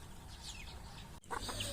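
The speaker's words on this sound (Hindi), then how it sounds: "मुर्गी के ये चूज़े देखें ज़बरदस्त, अभी जो है ना बड़े हो रहे हैं और ये इनको साथ लेकर चल रही है।" Hen clucking softly while leading her growing chicks, with a short low cluck series near the end, close by against faint yard ambience and no talking.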